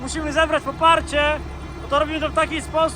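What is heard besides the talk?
None of the usual background noises is heard.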